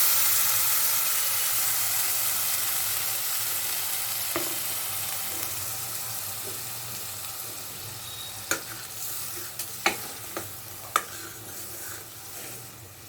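Ground masala paste from the mixer sizzles steadily in hot oil in a wok for a Malvani prawn curry, a loud continuous frying hiss with a few sharp spatters and clicks toward the end.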